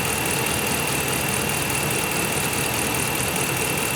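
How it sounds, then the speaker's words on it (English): A 2010-19 Dodge Ram 5.7L Hemi pickup engine idling steadily at close range after a thermostat replacement, a continuous even rumble with a faint high whine and no talking. "You hear it idling down pretty quick too."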